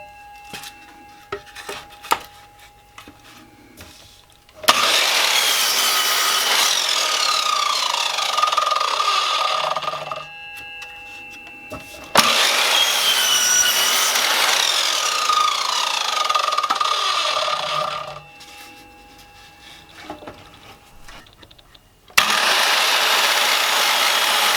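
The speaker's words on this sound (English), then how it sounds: "I'm just going to use the chop saw and that'll give me a nice clean edge." A chop saw cuts through wooden sign pieces in three long, loud passes, each a steady whining cut that ends abruptly, with quiet handling noise in the gaps between them.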